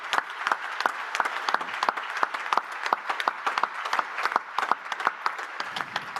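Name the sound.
applause from audience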